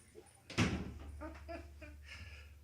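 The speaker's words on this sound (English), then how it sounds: "I'll get the door." A house door opens or closes with one sharp knock-like thump near the start, followed by faint voices and light room noise at close range.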